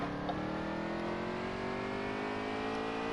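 A race car engine on a NASCAR road course chicane roars steadily at high revs, a continuous loud onboard drone with rising harmonic whine as it accelerates, no voices.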